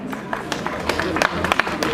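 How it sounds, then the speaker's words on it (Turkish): Applause and clapping from a crowd at an outdoor public-sector union rally protesting the economic crisis, a dense patter of hands at steady loudness with voices mixed in. "bir saniye alkışı bir alalım"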